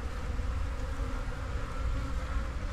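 Bees swarm inside a hollow tree with a loud, close, steady drone of buzzing that stays constant throughout, with no talk over it.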